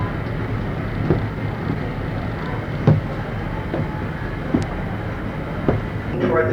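A train rolls past with a continuous rumble and occasional clicking rail joints, steady and fairly close throughout.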